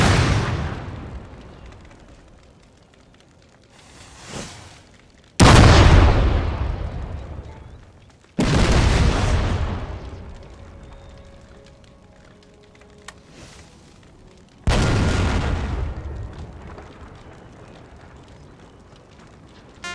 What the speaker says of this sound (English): The French make a last stand in a fortified building, not solid enough to withstand the Spanish 9-pounder.